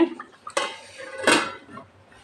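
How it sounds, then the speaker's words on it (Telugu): Metal clatter of a lid set onto a cooking pot of egg curry, two distinct clanks with a short rattle, close and fairly quiet with no talk. "ఇప్పుడు మూత పెట్టుకోవాలి"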